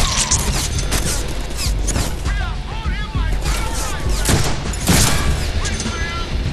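Loud, dense bursts of gunfire and crashing impacts from the Deadpool PC game rattle through the clip, with voices talking over the shooting.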